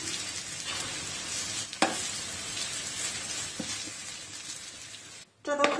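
Apple pancake batter is spread across a hot pan and fries with a steady close sizzle and hiss, broken by a couple of sharp scrapes and a brief pause near the end.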